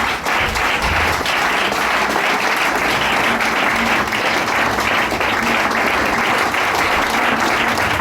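A church congregation breaks into loud, sustained applause, a dense wash of many hands clapping continuously for several seconds at close range, with no talk over it.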